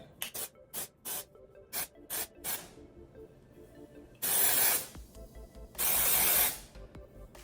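Redken Pillow-Proof dry shampoo sprayed onto hair in two long, loud hissing bursts, each about a second, following a run of short rubbing and rasping sounds close by.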